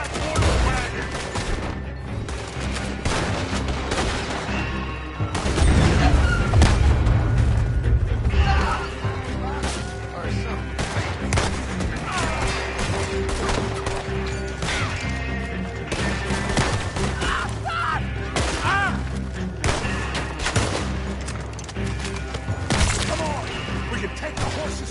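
Video game gunfire crackles throughout in dense bursts of shots, with a heavier volley early on, mixed with game sounds and occasional voices.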